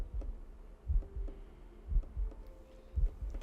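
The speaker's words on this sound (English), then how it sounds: "I can hear your heartbeat" A deep heartbeat effect from a Korean drama thumps in slow, paired low pulses, steady and close, with a faint hum underneath and no talking.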